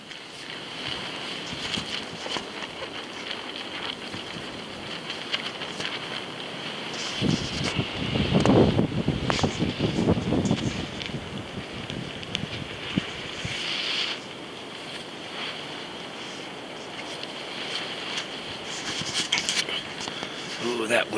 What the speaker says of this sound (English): that wind is starting to pick up now